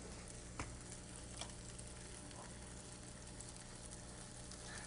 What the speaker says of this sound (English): Yeah, it's boiling. Kind of like small bubbles, but it's like boiling.